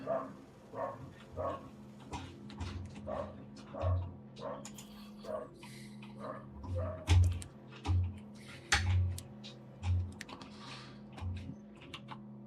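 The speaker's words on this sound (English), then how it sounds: "The dogs are going apeshit." Dogs in a home bark and yip excitedly in repeated bursts, fairly faint and somewhat distant, mixed with close computer keyboard typing throughout.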